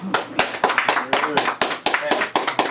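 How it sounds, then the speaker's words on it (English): Audience clapping after a round of a rap battle, a series of sharp, fairly close claps in uneven bursts with voices talking over them. "Let's clap that up."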